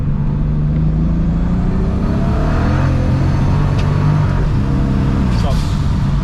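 A single-turbo N54 BMW 335 revs hard under boost with misfires, the engine droning loud and steady close by, its pitch sweeping upward, with a few short sharp pops near the end.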